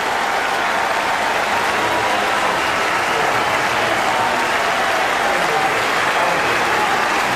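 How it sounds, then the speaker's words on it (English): Cricket crowd at a 1999 Test match against Pakistan rising in a standing ovation for a departing batsman, loud, sustained stadium applause and crowd roar filling the whole stretch without a break. "Crowd here on their feet to Adam Gilchrist"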